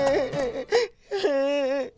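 Mournful wailing cries in an animated film, two drawn-out sobbing moans with a brief pause between, loud and close.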